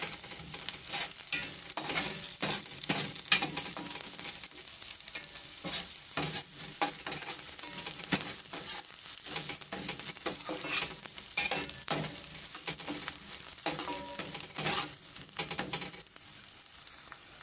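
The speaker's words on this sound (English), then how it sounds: "Now I'm going to add in my garlic and onion. Giving it a stir." Chopped garlic and onion sizzle steadily in hot oil in a pan as fried rice with frankfurters and egg is started, with repeated scraping stirs of a spoon through the mixture, close and continuous with no talk.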